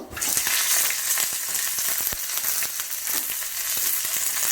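Cumin seeds and a sprig of curry leaves drop into hot oil and sizzle loudly and steadily, a dense close crackle with small pops running through it and no talking.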